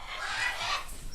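Pet parrots at a feeding session, including budgies and a grey cockatiel, giving a brief burst of harsh, honking squawks close by with no talk over them.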